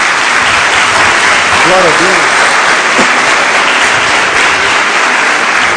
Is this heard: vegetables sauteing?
no